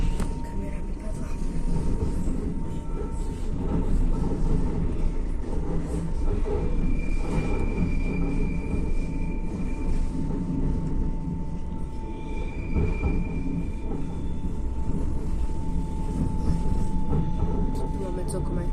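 Heard from inside a moving train carriage on the way to Štrbské pleso, wheels and carriage give a loud continuous rumble with occasional high squeals from the rails.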